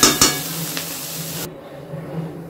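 Fried vegetables are stirred in a hot pan for veg pulao: a few quick scraping strokes over a soft sizzle, close and loud at first, then fading to a quieter hiss.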